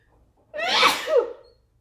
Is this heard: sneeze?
yes